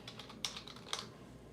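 Quiet clicking of a computer keyboard as a bucket name is typed, a short run of light keystrokes with two sharper taps standing out, close and alone.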